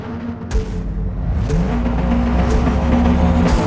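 Subaru car engine in Forza Motorsport during a wet race at Watkins Glen, a loud close steady drone that rises in pitch as it revs up and shifts gears, with no talk.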